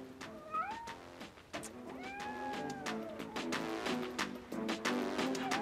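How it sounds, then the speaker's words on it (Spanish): A cat meows and caterwauls repeatedly, drawn-out wailing cries rising and falling over several seconds, close and fairly loud with some background clatter and no clear talking. "Maldito gato."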